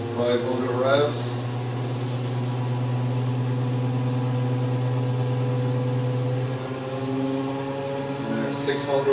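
Electric motor in a BMW E31 840Ci electric conversion spinning at low revs, a steady close hum with a rising whine, and a voice speaking over it near the end.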